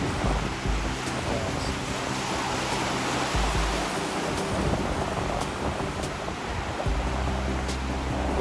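Surf rolling in at a beach where people are surfing, a steady broad wash of breaking waves with some wind rumble, no voices.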